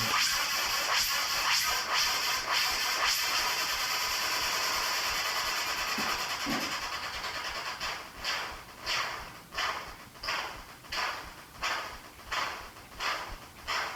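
Buzzy, noisy electronic tones from a homemade analog VCS3 synthesizer sustain for several seconds, then turn into a steady pulsing rhythm of repeated swells, with no talking.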